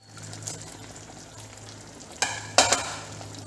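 Chopped spinach stirred into a simmering potato curry in a pan, with a low steady sizzle and bursts of louder scraping and rustling from the spoon near the end.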